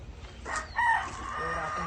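A rooster crows once at a poultry farm, a clear, fairly close call rising and falling over about half a second, followed by faint background noise.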